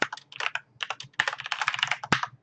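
A new password is typed on a computer keyboard in a quick, uneven burst of close key clicks with a brief pause midway, and no voices.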